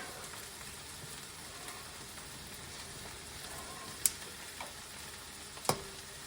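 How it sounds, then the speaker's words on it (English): Stuffing mix sitting in melted butter in a pan, giving a faint, steady low sizzle with a couple of soft ticks and clicks; no talking. "it looks like the butter is all melted. So we're going to go ahead and dump the mix in."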